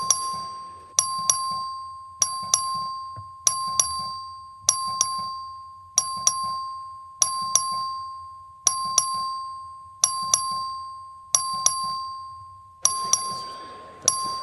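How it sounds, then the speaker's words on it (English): A clerk rings the voting bell in a state legislative chamber: a long run of evenly spaced double chimes, each ringing briefly and decaying, loud and steady throughout with no talk. "The clerk will please ring the bell."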